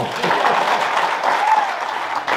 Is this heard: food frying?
no